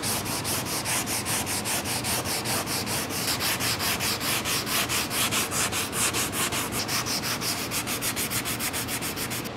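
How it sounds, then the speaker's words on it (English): Hand sanding Bondo body filler on a car panel with 80 grit sandpaper wrapped around a block, a close, steady rhythmic scraping of quick back-and-forth strokes that continues without pause. "we're gonna just sand some Bondo. We're gonna use the 80 grit."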